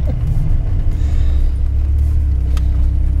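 A 2002 Dodge Viper GTS Coupe drives on a bumpy road, its engine a deep, steady, close rumble heard from inside the cabin with faint rattles over the drone.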